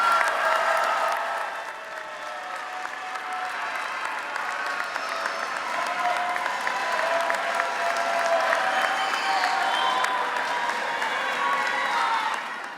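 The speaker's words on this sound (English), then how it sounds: "give them a big round of applause because they deserve it" A graduation ceremony audience applauds the graduates' parents, steady dense clapping from a large crowd in a hall that continues without a break, with a few cheers mixed in.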